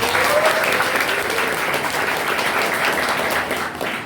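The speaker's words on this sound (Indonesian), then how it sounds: "tepuk tangan dong" Dense, sustained applause from an audience of students at an Islamic school lecture, a continuous loud wash of many hands clapping together that holds steady before easing slightly at the end.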